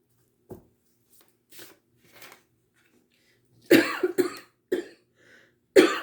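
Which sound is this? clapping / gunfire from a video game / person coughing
person coughing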